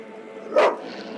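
Single sharp bark from a dog in The Witcher video game, loud and fairly close, over a low steady background hum.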